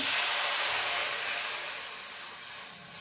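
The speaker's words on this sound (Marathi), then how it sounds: "त्याच्यामध्ये ह्या दोन वाट्याप्रमाणे मी पाणी ओतून घेते" Water is poured into a heating kadhai for a quick sweet semolina dish, giving a steady broadband hissing rush that starts loud and gradually eases over a few seconds, with no talking.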